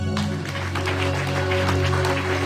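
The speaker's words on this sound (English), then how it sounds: "Can we just clap hands for them?" A church congregation claps hands together in a steady, dense wash of applause, with sustained organ or keyboard tones ringing underneath throughout.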